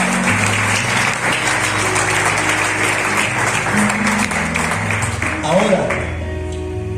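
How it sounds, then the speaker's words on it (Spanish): Church congregation applauding during a sermon, broad clapping filling most of the stretch with musical tones and voices underneath before tapering off near the end. "Aplaudo a Jesús de Nazaret en esta hora."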